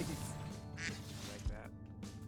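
Ducks quack in a video game, a few short nasal calls over steady game noise and background hum.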